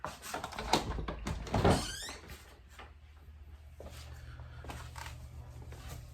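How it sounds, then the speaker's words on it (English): A door opens with a quick rattle and clunk of handle and latch up close, followed by quiet shuffling and soft background ambience as someone steps out toward a golf course. "we'll just go out the door."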